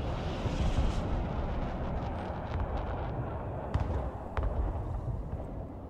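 Missiles firing in the real-time strategy game Broken Arrow, with a continuous rumbling wash of launches and distant blasts, punctuated by a few sharper cracks near the middle and end.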